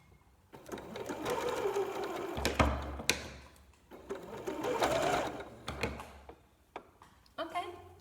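A sewing machine runs in bursts, stitching an upcycled T-shirt into a bralette, with loud whirring runs separated by short pauses and knocks, while people talk over and between the runs.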